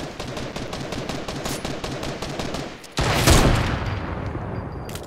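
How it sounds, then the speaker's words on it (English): Sniper fire and other gunfire in a battle royale video game: a dense, loud stream of rapid shots, then a sharp, heavier blast near the middle, with the firing continuing afterward. "I just got sniped at."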